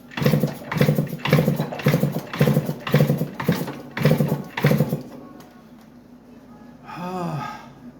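A Yamaha DT175 motorcycle engine is cranked over with a rapid, rhythmic chugging for about five seconds, then stops, leaving quiet hum and a brief squeaky rising sound near the end.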